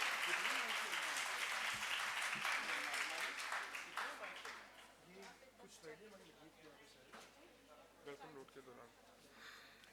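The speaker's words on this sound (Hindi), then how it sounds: "एक बार भरपूर तालियों में मिस्टर अहमद खावर शहजाद" Festival audience applauding at an inaugural session in Lahore, broad dense clapping that starts strong and gradually thins out over several seconds, with a voice speaking over it.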